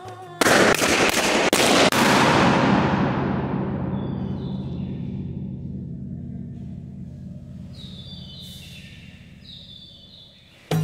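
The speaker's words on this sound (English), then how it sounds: "We recorded around 100 explosions in the chambers with our sound level meters." Balloons burst inside the polished granite chambers of the Barabar caves, several sharp close bangs in quick succession, each followed by a long, slowly fading reverberation that rings for many seconds, with a faint high tone near the end.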